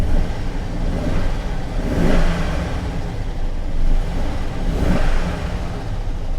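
A salvage truck's engine, running rough with a suspected head gasket failure and white exhaust smoke, rises and falls through repeated throttle blips, a loud, close rumble revving up and settling back two or three times with no talk.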